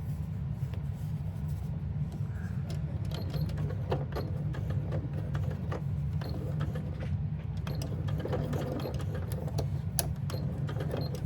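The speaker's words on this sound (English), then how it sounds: "Let's go ahead and stitch this down." Sewing machine stitching down part of an owl-face handbag, a steady, close, continuous mechanical whir with rapid needle ticking running throughout, no talking.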